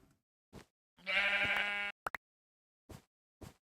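Two bleats from a sheep in a video game ring out clearly, a long one then a short double call, between a few soft clicks and taps.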